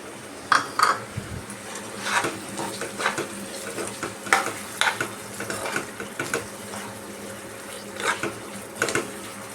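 Pumpkin being stirred with coconut powder in a pan for Bengali kumror chakka, heard as steady rhythmic scraping and clinks of a spoon against the pan, over a faint sizzle.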